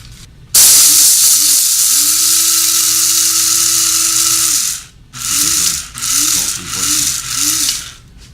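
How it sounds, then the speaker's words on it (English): An electric food grinder whirs loudly while grinding raw veggie burger ingredients, running steadily for several seconds, stopping briefly, then restarting in a few short pulsing bursts, with no talking. "we'll just take this and put it right into our grinder. As you can see, the grinder. Then just grind it."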